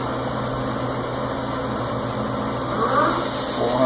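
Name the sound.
Ikegai CNC lathe spindle running at 200 RPM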